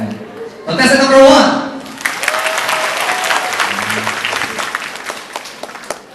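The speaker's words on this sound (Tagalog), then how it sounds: "sa inyo mga palakpak kung sino po na" Audience applause at a live comedy variety show in Sydney, a burst of crowd clapping that starts after a short spoken line and continues steadily for several seconds, with a host speaking over it.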